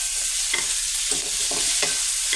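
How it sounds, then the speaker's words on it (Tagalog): Assorted vegetables stirred in a hot pan, three distinct scraping strokes of a spoon over a soft steady sizzle, close up and without speech. "Haluin natin."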